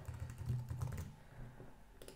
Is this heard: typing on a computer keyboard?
yes